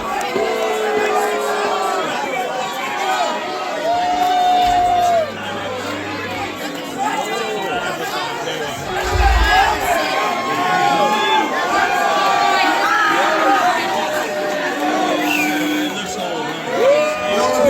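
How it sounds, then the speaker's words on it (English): A concert crowd cheers, whoops and chatters loudly after a set at Xanadu Roller Arts in Brooklyn, a dense steady roar of many voices with scattered shouts throughout. "Give yourselves a round of applause."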